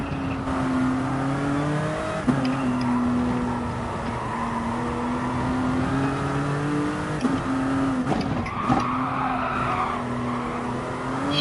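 Race car in a racing video game sliding and skidding for grip, engine drone steady and loud throughout with a brief squeal of tyres near the end.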